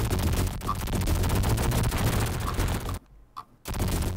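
Dense rapid gunfire from shooting creatures in the Resident Evil 3 (Biohazard 3) video game, loud continuous bursts of game shots with a brief drop to near silence before firing resumes.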